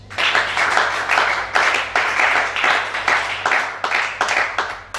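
A church congregation at a Libreville worship service applauds, loud dense clapping that swells and dips in repeated waves, close and filling the room.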